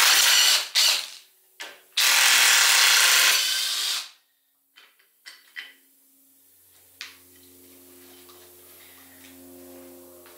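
A power tool whirs and ratchets loudly in long bursts, taking off the rear transmission mount on a 700R4 automatic transmission teardown, followed by clanks of metal and a low steady hum as things settle.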